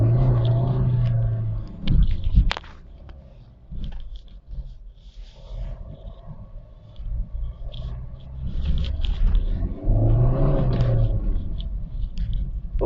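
Engine of a tuned Suzuki car fitted with a BMC performance air filter, revved in two strong bursts separated by a quieter idling stretch, heard close and loud.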